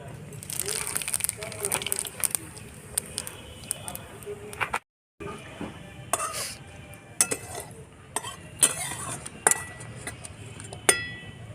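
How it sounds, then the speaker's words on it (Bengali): Bay leaves and cumin seeds crackle in hot oil in a pan, readying a pumpkin curry with hilsa fish head, while a utensil stirs with scattered clinks and scrapes over a steady sizzle; a brief silent gap breaks it midway. "ইলিশ মাছের মাথা দিয়ে কুমড়োর তরকারিটা করার জন্য তেজপাতা আর জিরে সোমবার দিয়ে দিচ্ছি"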